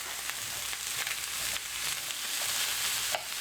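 Shallots, pak choy, carrots and spring onions fry in a hot pan with a steady close hiss, broken by soft periodic stirring scrapes, with no voices.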